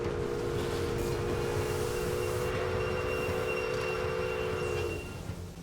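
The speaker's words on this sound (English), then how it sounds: "We'll take a little train ride. Possibly on one of our new Pacifics." A steam Pacific express locomotive in the Railway Empire video game, running on rails with a steady rumbling roll and a sustained whistle-like tone that cuts off near the end.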